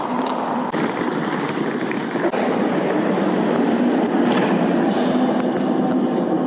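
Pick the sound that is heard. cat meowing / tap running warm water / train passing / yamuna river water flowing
train passing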